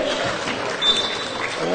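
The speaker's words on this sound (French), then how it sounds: "applaudissements s'il vous plaît" Crowd applause at a French NM2 basketball game, Marseille hosting Lyon, with clapping mixed into arena noise and a voice over it, brief and moderately loud.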